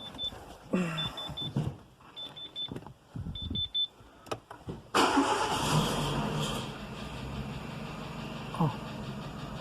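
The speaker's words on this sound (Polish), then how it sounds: "Odpalamy samochodzik na chwilkę, wsiadamy." A Renault Megane II car with its check engine light on is started after an oil service: a warning chime repeats amid interior clicks and brief voices, then the engine cranks and catches, settling into a steady idle.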